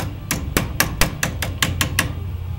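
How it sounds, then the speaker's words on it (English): A hammer gives a series of about nine light, evenly spaced taps, seating the rear axle dust shield on a Corvair Rampside. Each crisp metallic strike is close and clear over a low background hum. "a little tap with a hammer here and there, ain't going to hurt nothing"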